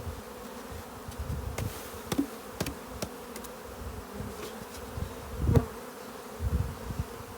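Honeybees buzz steadily around an open beehive during heather season, a continuous close drone of many insects with brief louder passes near the ear and occasional soft knocks of hive handling.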